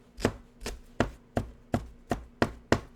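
Knife chopping fresh garden herbs on a board for a vegan bulgur wheat tabbouleh: about nine sharp, evenly spaced chops, close and loud, with no talk over them.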